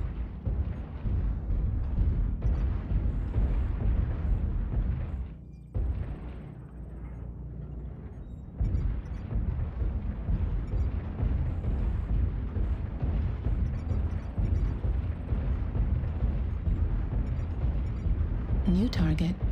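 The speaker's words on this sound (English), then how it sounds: "Artillery strike online." Artillery strike explosions in MechWarrior Online: heavy, rumbling blasts roll on almost continuously, broken by a short lull, beneath an intermittent synthetic announcer voice.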